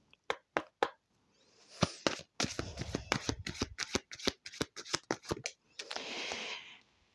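Tarot cards being shuffled and drawn, with sharp single card snaps at first, then a run of riffling flicks and slides and a soft shuffling swish at the end, close and quiet.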